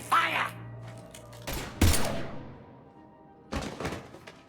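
Gunfire erupts in a combat scene from the video game Mass Effect 3, with several loud, sharp bursts of shots separated by short pauses, sounding close and punchy.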